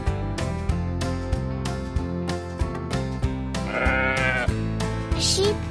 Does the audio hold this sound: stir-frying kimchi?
no